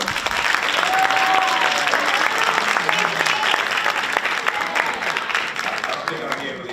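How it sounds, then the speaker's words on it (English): Audience at a Haitian history bee semifinal and final applauds a school team, a loud, continuous burst of clapping with scattered voices and cheers mixed in throughout. "we're gonna give you a round of applause"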